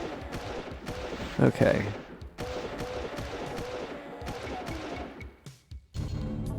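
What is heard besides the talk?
shotgun firing in Doom megawad The Lost Magic video game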